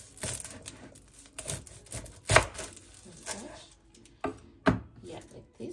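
A knife chops through garlic on a board in a handful of irregular, crisp knocks, separated by quiet gaps, close and fairly soft.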